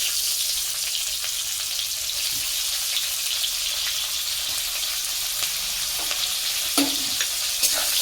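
Chopped onions sizzle and fry in hot oil in a wok, a steady crackling hiss with occasional stirring clinks and scrapes, no talking.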